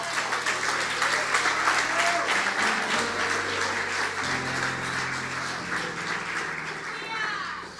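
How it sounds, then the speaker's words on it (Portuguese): A church congregation applauds continuously, a dense wash of many hands clapping at steady loudness with a sustained tone beneath, no talking over it. "Quem crê nisso, diga amém e aplaude ao Senhor."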